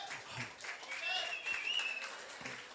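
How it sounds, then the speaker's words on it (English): Crowd applause at boxing weigh-ins, faint and distant clapping mixed with cheering and a whistle, with voices talking over it throughout. "So give yourselves a round of applause."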